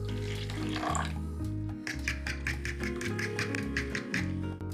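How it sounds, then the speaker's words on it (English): About 220 ml of water pours steadily into a bowl holding two eggs, a continuous splashing trickle with a lower watery rumble beneath it, close and fairly loud. "We add the water."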